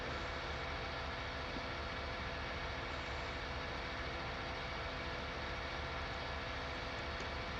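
A tractor engine from the video game Farming Simulator 19, a steady low mechanical drone that holds faint and even throughout as the tractor drives along.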